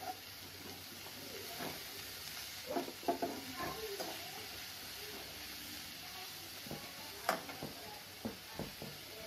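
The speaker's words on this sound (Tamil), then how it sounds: "புடலங்காயும் நல்லா வதக்கி விடுங்க" Finely chopped snake gourd sautés in a pan with a faint steady sizzle, broken by soft irregular stirring scrapes and utensil taps, quiet and close.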